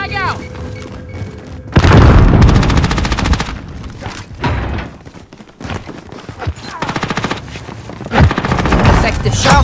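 A frag grenade blast and bursts of automatic gunfire in Call of Duty: Modern Warfare on Rebirth Island, loud and close, with a heavy boom followed by rattling fire and shouted voices mixed in.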